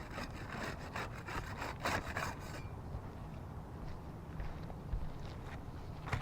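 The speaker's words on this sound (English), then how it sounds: "I'll use the putty knife to unseal the top shingle here." A putty knife works under sealed roof shingles, giving a few seconds of close, scraping, rasping strokes, then a quieter scuffing stretch with no talk.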